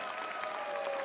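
A studio audience applauds at a children's TV singing competition semifinal, a steady wash of clapping heard briefly and at moderate distance, blending into hall ambience.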